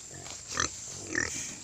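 A native sow being fed gives two short grunts about half a second apart, close and moderately loud, over faint farmyard background.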